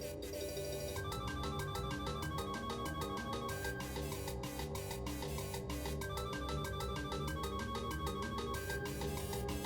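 Upbeat, busy Banjo-Kazooie video game music with a bouncy rhythm and bright plucked melody, playing steadily throughout at a modest volume.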